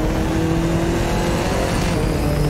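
Audi TT engine in The Crew 2, a loud continuous drone of a car driving at speed with faint tire noise, steady throughout with no voices.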